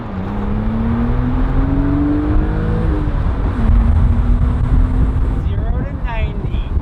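A 2000 BMW M car pulls away and accelerates, its engine note climbing through a gear and then rising again. It is heard from inside the cabin with steady road noise underneath.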